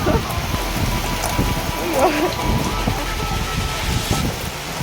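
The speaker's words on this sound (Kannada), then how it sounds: "ಮಳೆ ನೋಡಿ ಹೆಂಗೆ ಎವಿ ಜೋರು ಮಳೆ ಬರ್ತಿದೆ" Heavy rain pours down outdoors in a dense, steady hiss with scattered drop impacts and some wind, loud and close, while a voice briefly murmurs underneath.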